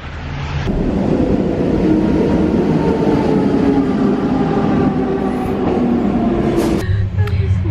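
A loud, rumbling train passes close by in Switzerland with a steady roar and rattling, easing off briefly near the end.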